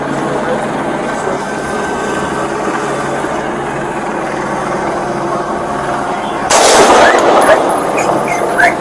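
An LAPD officer fires a gunshot during a hostage standoff with a homeless woman, producing a sudden loud, sharp blast near the end after steady, noisy ambient background.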